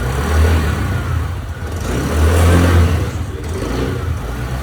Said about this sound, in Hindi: अभी हाई RPM कर रहे, वो अच्छा से पूरा मिक्स हो जा रहा है इंजन।